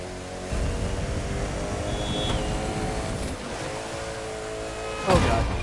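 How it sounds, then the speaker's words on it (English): A car engine in the racing game The Crew 2 drones and revs steadily, with a faint high whine partway through and a sharp, louder burst of noise near the end. "Oh god, that's a car."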